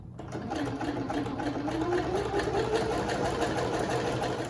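A sewing machine stitching elastic onto a fabric bowl cover runs steadily with a fast, even needle chatter and a slowly rising motor pitch, close and alone.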